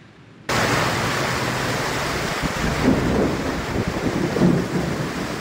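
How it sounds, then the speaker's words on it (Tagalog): Heavy downpour with wind in Camarines Norte during a thunderstorm, a dense, even roar of rain that starts abruptly and holds steady and loud, with faint low rumbles mixed in. "Sinabayan ng kidlat at malakas na kulog ang malakas na buhos ng ulan sa Camarines North"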